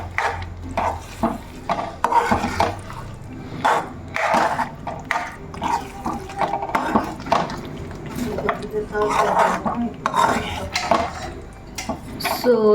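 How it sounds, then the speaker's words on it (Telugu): Mango pickle is stirred and mixed in a bowl, giving repeated scraping and clinking of a spoon against the dish in an uneven rhythm, close and fairly loud. "సో ఇప్పుడు దీన్ని కొంచెం బాగా మిక్స్ అయ్యేలా కలుపుకుందాం."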